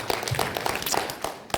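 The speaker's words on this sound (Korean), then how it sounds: "이분들을 위해서 우리 박수 한번 칩시다." An audience at a church seminar claps in a brief scattered burst, individual hand claps distinct and moderately faint, with no talking over it.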